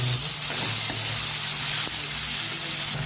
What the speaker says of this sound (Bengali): এখানে আমি দেখুন পেঁয়াজ রসুন আর টমেটো একসাথে ছোটো করে কেটে রেখেছি, এটাও দিয়ে দেবো।